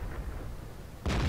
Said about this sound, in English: survives a troll cannon shot